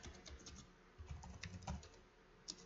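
Keys clatter on a computer keyboard in quick, uneven bursts of soft clicks, fairly quiet and close, with no talking over them.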